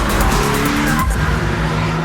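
A Toyota GT86 drifts with its engine revving hard and rear tyres squealing loudly and continuously, close and dominant throughout.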